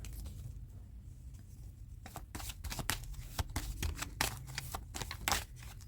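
Tarot cards being shuffled up close: after a quiet start, a quick, continuous papery riffling and patter of cards runs for several seconds.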